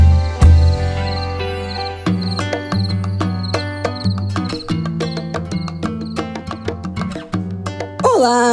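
A cricket chirps during a podcast intro, with rapid repeated chirps layered over a musical intro bed with a bass line, close and steady throughout.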